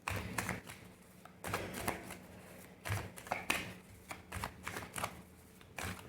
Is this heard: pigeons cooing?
no